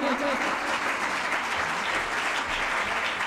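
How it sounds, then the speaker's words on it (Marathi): Sustained crowd applause fills a poetry-collection book launch hall, steady and dense clapping throughout with no pause. "टाळ्यांचा प्रतिसाद जरा कमी येतोय का?"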